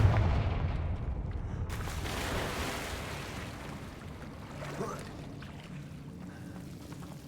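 Blasting spell cast in the Hogwarts Legacy video game, a sharp burst at the start followed by a rushing, rumbling roar that slowly fades over several seconds.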